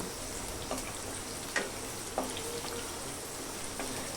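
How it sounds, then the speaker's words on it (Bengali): Chopped onions fry in hot oil in a pan for beef bhuna, a steady sizzle with occasional light pops and faint stirring, close and continuous without speech. "এখন পেঁয়াজগুলোকেও ভেজে নিব"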